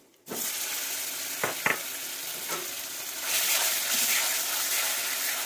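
Greens dropped into hot mustard oil sizzle and fry steadily, with a few sharp crackles early on and the hiss swelling louder toward the end, close by and with no talking.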